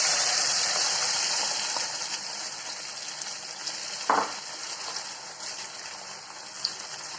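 Grated gooseberries frying in hot oil with mustard seeds and curry leaves for a gooseberry pickle: a steady, bright sizzle throughout, with a short splash and stirring noise midway and occasional small pops.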